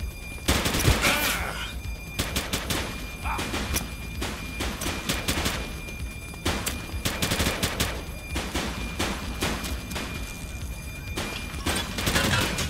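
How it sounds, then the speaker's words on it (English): In The Precinct, a police game, a dense firefight of overlapping rifle and pistol shots crackles in repeated bursts, close and loud throughout, with no one talking. "Shots fired!"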